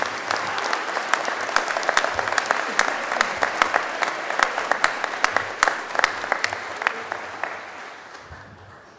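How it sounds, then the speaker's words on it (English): A graduation ceremony audience of the Faculty of Arts & Society at CDU TAFE applauds the graduates, with dense, steady clapping for most of the span before it thins and fades out near the end. "Please give them a big round of applause and sincere congratulations"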